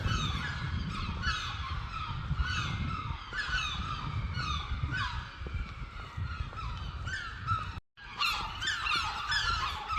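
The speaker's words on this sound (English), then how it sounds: "one thing you're going to notice is the noise of these seagulls" Seagulls call over and over outside a shopping centre, their shrill cries overlapping against a constant low rumble of outdoor background noise.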